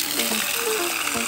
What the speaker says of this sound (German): Fließendes Wasser.